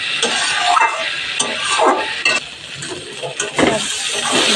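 Potatoes and soybean chunks are stir-fried in a pan with a continuous close sizzle and repeated scraping stirs and clatter against the metal, loud and busy throughout.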